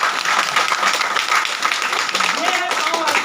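An audience at a Ranchi, Jharkhand business meeting breaks into sustained clapping, a dense, fairly loud patter of many hands filling the room, with voices mixed in near the end.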